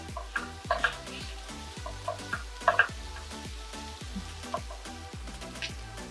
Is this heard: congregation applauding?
no